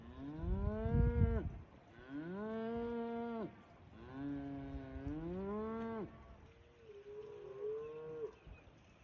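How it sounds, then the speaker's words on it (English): Cattle moo in long, drawn-out calls near a rural cabin, four loud lowing bellows in a row with brief pauses between them and the last one softer. "That's about all they do is chew grass and say moo."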